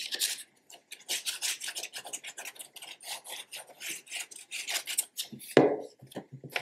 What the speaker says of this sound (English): So first thing we should probably do is glue the mood board down. So I'm just gonna use a Yoohoo glue stick